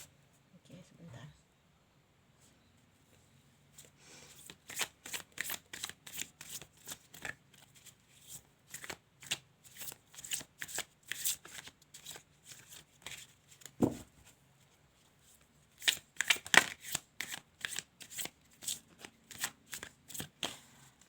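Tarot cards are shuffled in repeated quick riffling bursts with short pauses between rounds, crisp and close, while a voice talks softly at times.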